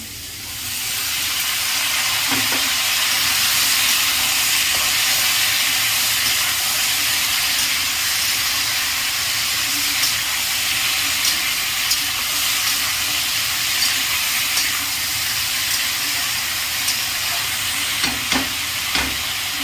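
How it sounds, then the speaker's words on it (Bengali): Malabar spinach leaves hit a hot pan for a ghat-style dish and sizzle loudly and steadily throughout, with a hissing, steamy wash and a few faint clinks of stirring near the end. "একটু নাড়িয়ে চাড়িয়ে নিয়ে এবারে এই পুঁই শাকগুলো দিয়ে দেবো"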